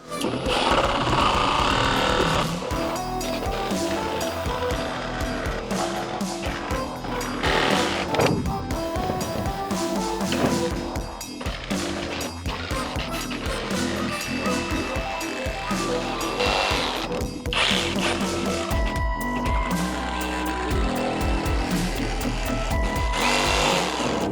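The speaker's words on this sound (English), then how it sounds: "we're just gonna jigsaw all the way around" Power jigsaw cutting through the sheet-metal wall of a van, a continuous loud buzzing rasp with rapid reciprocating chatter that holds steady for the whole stretch with brief dips.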